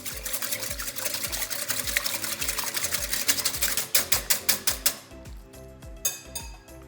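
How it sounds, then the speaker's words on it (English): Two eggs whisked briskly in a bowl for muffin batter, a fast rhythmic clatter of whisk against the bowl that slows into a few separate strokes near the end. "we're just going to give those a really good whisk together"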